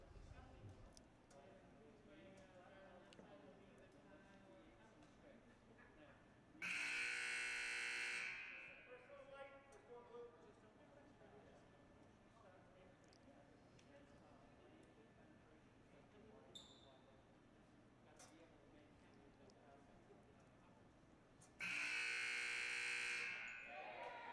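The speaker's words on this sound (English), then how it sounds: "Those buzzers go off just to make sure we're all awake." Loud electronic buzzers at a girls' varsity high school basketball game. Two long harsh blasts, each lasting about two seconds, stand out well above the crowd noise of the gym.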